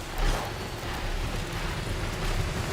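Steady rain hiss fills the scene, a continuous broadband wash with a low rumbling undertone and no pauses.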